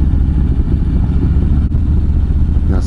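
A loud, deep Harley-Davidson Street Bob motorcycle engine rumbles steadily and close by, a constant low throb with no voices.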